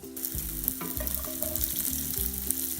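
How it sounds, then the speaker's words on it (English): Rendered pork belly sizzles and crackles in its own hot fat and drippings in a pan, a steady close frying hiss with faint stirring, and no one talking. "now I have my pork belly rendered down. It's nice and it's brown, and I have all those drippings"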